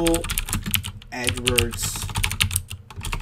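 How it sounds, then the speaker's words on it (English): Rapid typing on a computer keyboard, a quick run of close, crisp key clicks with a short pause, while a person speaks over it. "I type Google"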